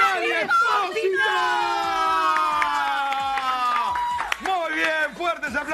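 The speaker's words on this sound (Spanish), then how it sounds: "Fuertes aplausos para Lali Espósito" An awards-show audience cheers and whoops loudly for pop star Lali Espósito, a sustained crowd roar with shouting voices carrying through, then a brief dip and renewed shouts.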